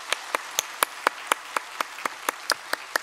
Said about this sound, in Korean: 조영수 권사님의 인도로 이은혜 성도님과 우리 자녀네요 태호, 지호까지 우리 등록해 주셨는데 박수로 환영하겠습니다.